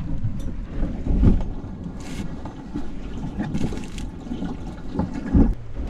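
A sailboat beats upwind through bumpy, choppy water, with hull slaps and splashes thumping irregularly over rushing water and heavy wind buffeting the microphone, close and loud, no talking.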